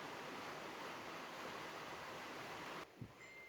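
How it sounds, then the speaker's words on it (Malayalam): Rain falling steadily at night outside a home in Kerala, a faint, even hiss that continues for about three seconds before cutting off abruptly into a quieter background with a brief thump. "മഴ പെയ്യുന്നു."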